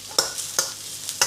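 Chow mein noodles with onions and spring onions tossed in a hot oiled wok, giving three or four sharp scraping strokes at a steady pace over a faint sizzle, close and clear with no speech.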